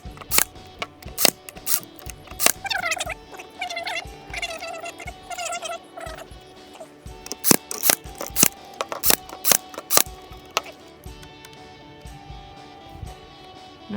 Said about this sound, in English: This is just a nail gun. Usually do 3 of them.